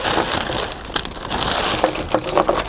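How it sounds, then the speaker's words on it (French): Solex moped parts being unwrapped from their packaging, with crinkling and crushing rustles running steadily throughout and a few sharper crackles near the end, close and fairly loud. "Alors je déballe encore."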